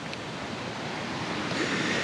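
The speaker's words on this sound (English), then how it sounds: "It's really nice with the water raging." Raging water from a waterfall roars as a steady, dense rush, loud and continuous with no breaks or voices.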